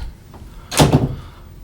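Closet door in an Owner's Suite aboard the Allure of the Seas cruise ship swung open, a single close thump and rattle with a short soft rumble after, no voices.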